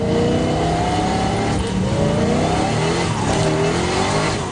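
A Ford GT sports car's 500-horsepower V8 engine roars loudly and steadily, pitch rising and falling as it revs and accelerates close by.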